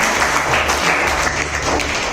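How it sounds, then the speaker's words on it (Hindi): Loud, dense applause from an audience at a school quiz competition, a continuous close-up clatter of many hands clapping throughout with no break. "एक बार जोरदार तालियां हो जाए"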